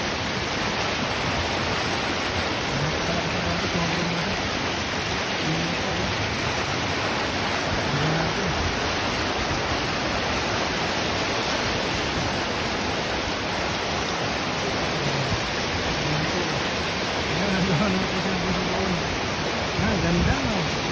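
Aw-Asin Falls in Sigay, Ilocos Sur pours with a strong, rushing current, a steady dense roar of falling water heard up close, with occasional voices faintly audible beneath it.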